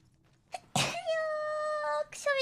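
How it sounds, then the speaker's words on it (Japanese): A single sharp sneeze from a VTuber just out of the bath, a short faint intake first, then a loud burst trailing into a long tonal sigh, with a second voiced sound starting at the end. "ちょっと、お風呂上がってばかりなので、ちょっと、くしゃみが。"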